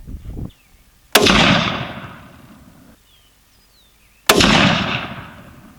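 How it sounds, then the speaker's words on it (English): Two sharp, loud .243 Winchester rifle shots from a Savage 110 with a bedded action, fired a few seconds apart during a five-shot group, each followed by a long echoing tail outdoors. "We'll shoot one more 5-shot group with that bullet."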